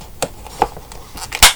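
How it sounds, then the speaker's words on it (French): A corner rounder punch clips the corners of a cardboard gift box for a wine bottle, giving several short sharp snaps and clicks with one louder final crunch, close by and with no talking. "Ensuite, je vais prendre ma perforatrice de coin."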